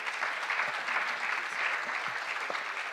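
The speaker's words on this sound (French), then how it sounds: "Bravo, on peut l'applaudir." An audience at a sports-for-change event applauds a presenter, a steady, moderately distant patter of many hands clapping continuously for a few seconds.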